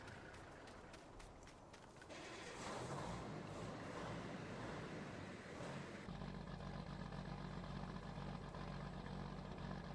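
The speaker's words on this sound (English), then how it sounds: "Man, I love how that tractor sounds." A tractor engine runs in Farming Simulator 19, a steady low mechanical drone that gets louder and heavier as the clip goes on, with no talking.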